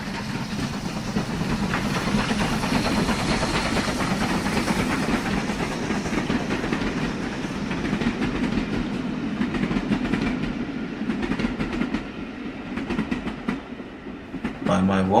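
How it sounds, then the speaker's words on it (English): A train passing through a station, with continuous rumbling, rhythmic clattering and hissing that stays loud and close throughout, then thins toward the end. "we will listen to the loud clangs and jots of the train passing through the station"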